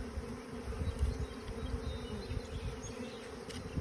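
A dense, steady buzz of many honey bees inside a bee package being installed fills the clip, continuous and close with no talking.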